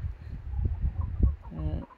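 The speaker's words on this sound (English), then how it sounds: "we do have a chicken pen" Hens in a backyard chicken pen in a home garden cluck softly and intermittently, low close murmurs with a short rising call near the end.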